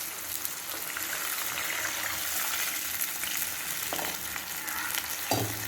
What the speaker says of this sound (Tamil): இப்போ நம்ம எலுமிச்சம்பழம் அளவுக்கு புளியை எடுத்து கரைச்சி வச்சுட்டா ஊற்றிக்கணும்.